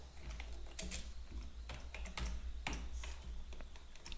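Typing on a computer keyboard while entering a level name in Revit software, a quiet, steady stream of light key clicks with a few sharper taps.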